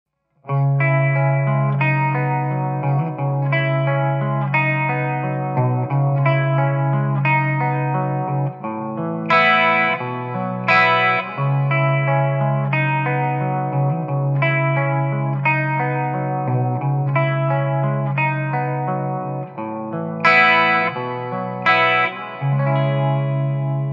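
Guitar played through the clean channel of a NUX Mighty 40BT modeling amp, ringing chords and picked notes with chorus and echo, steady and loud throughout, no voices.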